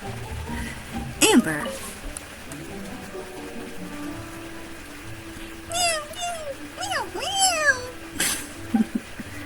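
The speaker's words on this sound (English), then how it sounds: "Meow, meow." A cat in Genshin Impact meows twice in quick succession, with a short rising-falling meow near the start of a game scene, then two clearer meows close together later, over soft background music and ambience.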